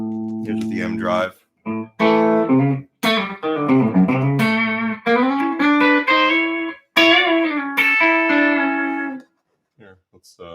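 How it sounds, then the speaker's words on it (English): Electric guitar run through an M drive overdrive pedal, played in bursts of bright sustained notes and bends with short gaps between phrases, loud and close, ending in a few quiet plucks. "Here's the M drive."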